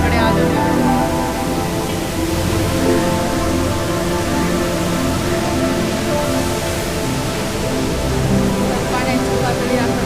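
Bhivtas waterfall near Kelavan village in Surgana, Nashik, swollen after rain, gives a steady dense roar of rushing water that fills the whole stretch without a break.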